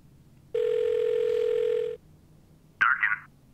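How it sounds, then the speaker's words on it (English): In a video game, a telephone line gives a steady dial tone for about a second and a half, followed by a short electronic blip, clear and isolated against quiet background. "Can we call Sam"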